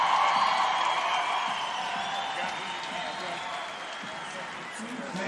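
Rodeo crowd at a PBR bull riding event in Albuquerque applauds and cheers steadily, a dense wash of clapping and whoops that stays loud throughout and eases slightly toward the end.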